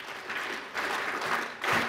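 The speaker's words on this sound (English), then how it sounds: "to thank Munyangoga, Mpigie Makofi, clap for him." An audience claps after a speaker at a gathering, a fairly faint, dense patter of hands that swells in waves over two seconds.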